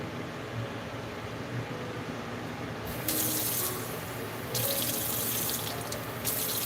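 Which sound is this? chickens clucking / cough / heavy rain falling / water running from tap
water running from tap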